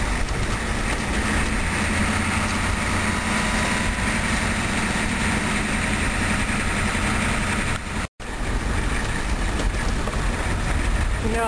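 A car engine drones steadily while driving on winding mountain roads with a 35 mph limit, a loud continuous rumble with road and wind noise that cuts out for a moment near the end.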